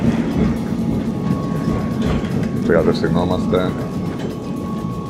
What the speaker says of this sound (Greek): Μπήκαμε στο τραμ.